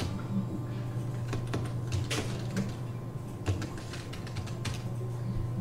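Computer keyboard keys tapped at an irregular pace while entering AutoCAD drafting commands, with sharp close clicks over a steady low hum, no voices.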